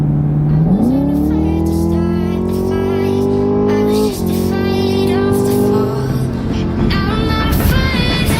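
A 2017 Chevrolet Camaro ZL1 engine climbs from a low idle into a high, sustained rev close by. It holds loud and steady, dips briefly, then winds on before easing off.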